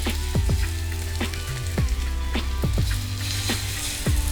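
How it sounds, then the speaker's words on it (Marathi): Besan batter hitting hot oil in a pan, a steady close sizzle with bubbly crackles and repeated small pops as the mixture spreads. "तेल गरम झालं की त्यानंतर हे मिश्रण आपण आता असं पसरून ओतायचं एक जागी ओतायचं नाही"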